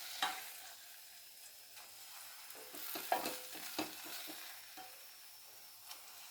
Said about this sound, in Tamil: இப்போது இந்த முந்திரியை நல்லா வறுத்த முந்திரியை எடுத்து அந்த பாகில் போட்டுக்கலாம்.